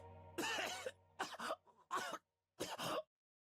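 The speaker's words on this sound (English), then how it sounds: "I couldn't stop coughing." A video game character coughs in several harsh, close bursts, with a long fit followed by shorter hacking coughs and a brief throat clearing, separated by silent gaps.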